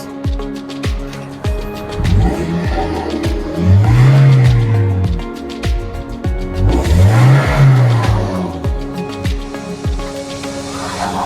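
A car engine, diagnosed with a faulty spark plug, idles and is revved repeatedly, with two strong rising-and-falling revs over a steady running rumble, loud and close.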